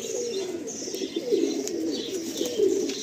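Pigeons in a breeder's loft coo in overlapping soft, throaty rolls, several birds close by with a continuous murmur and occasional faint chirps.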